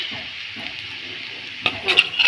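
Onions sautéing in a pan for dal bhat, a steady broad sizzle throughout, then a few louder scraping stir strokes near the end.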